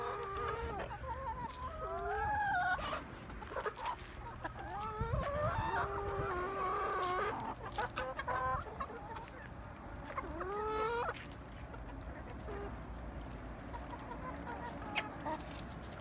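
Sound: chickens and roosters clucking

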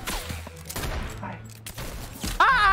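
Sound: gunfire from far away in the video game Fortnite

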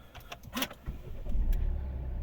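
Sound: car diesel engine starting

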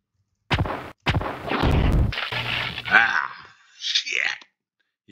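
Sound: explosion hitting the player in the video game Pathways Into Darkness

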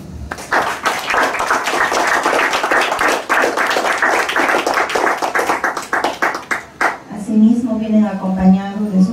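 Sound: wedding guests applauding the bride and groom

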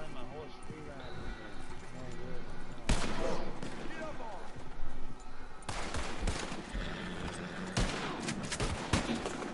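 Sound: video game gunfire, shooting up the town of Van Horn

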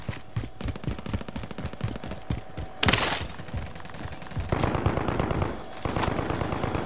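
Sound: gunfire in the video game Call of Duty Warzone

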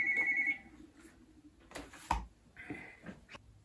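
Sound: telephone ringing with incoming call

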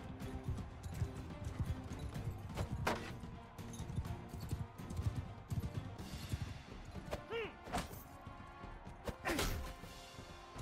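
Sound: horse hooves in the video game Mount & Blade 2: Bannerlord

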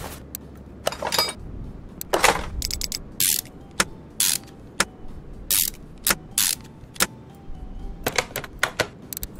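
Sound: replacing a car's air filter in Car Mechanic Simulator 2021 (video game)

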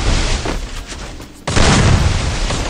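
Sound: AWM sniper rifle shot in a video game

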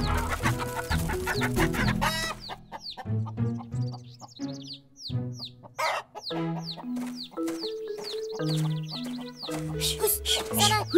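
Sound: chickens clucking

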